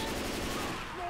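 Rapid gunfire from Left 4 Dead 2 rattles in a dense continuous burst, close and loud, filling the whole brief moment with no pauses.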